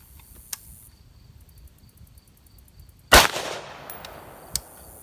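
A single loud rifle shot from an M16A1 clone firing 55 grain full metal jacket at an armor plate about 15-20 yards away, a sharp crack with a short decaying tail, set against quiet outdoor ambience with insect chirps.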